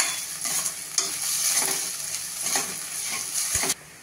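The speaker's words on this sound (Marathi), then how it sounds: "परत परतून घेते." Masala daliya (broken wheat) with turmeric being stirred and fried in a pressure cooker pot, giving steady close sizzling with repeated scraping stir strokes and no talk.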